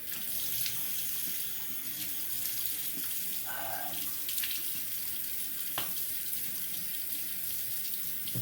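Tap water runs steadily from a faucet into a sink as the face is wet before a straight-razor shave, a continuous close splashing hiss with no talk.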